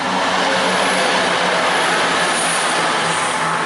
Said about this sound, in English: Here goes a train.